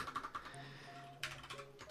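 Quiet, close clicking of keys on a computer keyboard, in short irregular bursts of typing separated by brief pauses.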